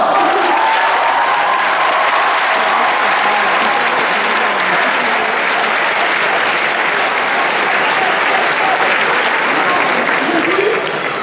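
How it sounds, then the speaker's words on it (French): A crowd at an anime convention talk claps steadily and loudly, dense applause filling the room without letup, with faint voices and a few shouts mixed in. "Bon, bah, vous pouvez l'applaudir, hein."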